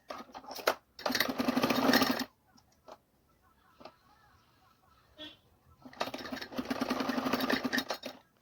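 Short bursts of a sewing machine stitching the corners of a paper cap, one run early and another near the end with near-silence and a few faint taps between; close and clear, no voices.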